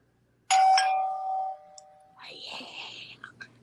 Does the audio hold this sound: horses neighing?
no